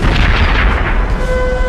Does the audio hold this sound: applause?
no